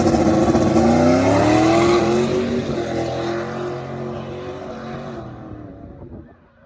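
A turbocharged drag car with a 118mm turbo launches hard on a poor, low-grip track surface, its engine roaring loud and close with rising revs, then fading as the car pulls away.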